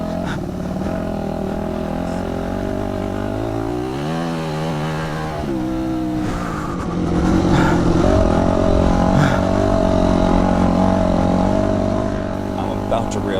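Motocross dirt bikes riding a vet track in Arizona heat, engines revving and rising in pitch with a steady buzzing drone, close and loud, while a voice talks over the top.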